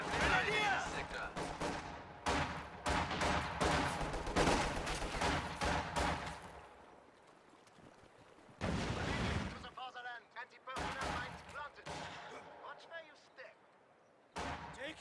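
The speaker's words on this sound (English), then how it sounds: "Small arms fire!" Dense bursts of small arms gunfire from a video game match rattle rapidly and loudly for several seconds, then return in shorter clusters after a quieter stretch, mixed with a voice speaking throughout.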